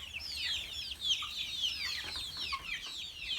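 Rhode Island Red hens clucking inside a 12-by-12 coop, with a steady overlapping flock chatter of short high clucks and chirps throughout, close and moderately loud, with no talking.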